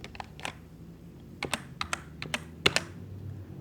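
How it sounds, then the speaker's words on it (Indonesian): Clicky keystrokes on a computer keyboard tap out a spreadsheet formula, a dozen or so irregular close presses over a faint steady hum, with no talking. "kemudian kita ketik SUMIF"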